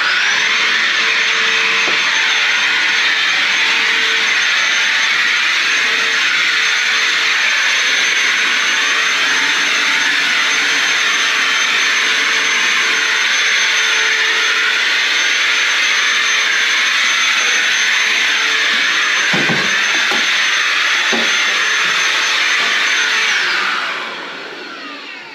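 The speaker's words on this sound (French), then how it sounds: "Un petit coup d'aspirateur partout." A vacuum cleaner runs steadily while cleaning a pellet stove, a loud, continuous whooshing roar with brief knocks near the end before the motor winds down.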